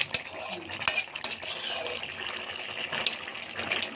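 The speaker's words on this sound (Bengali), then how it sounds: "ঝোলটা ফুটে গেছে, এবারে ভেজে রাখা মাছগুলো দিয়ে দেব।" Fried rohu fish goes into a boiling curry with bottle gourd stems in a pan, bringing clattering utensil knocks and stirring, with a soft bubbling simmer running underneath.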